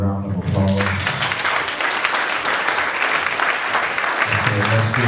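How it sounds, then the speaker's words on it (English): Loud, full congregation applause in a church, continuous and dense, with a speaker's voice heard briefly at the start and end. "Give our God a great big round of applause."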